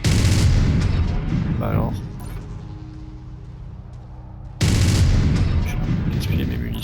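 Mech weapons firing in the MechWarrior 5: Mercenaries video game, with loud, dense rumbling bursts of gunfire and booms that fill the start and end and a quieter hum between them, as someone briefly speaks French.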